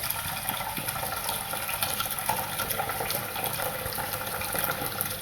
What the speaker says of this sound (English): So we're just going to get some water on this.